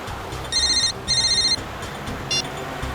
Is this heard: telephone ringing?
yes